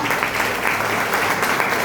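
Audience applause greeting a guest at the closing of a health awareness program, a steady dense wash of clapping that holds at an even level through the short stretch with no voices over it.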